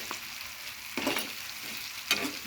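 Soybean vegetable curry stirred in a pan at home: a soft, continuous sizzle with a few sharper scraping strokes of the spoon, close and fairly quiet, with no talking.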